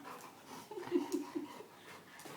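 A dog whimpers in short, soft whines close by, with faint panting, while someone talks affectionately nearby.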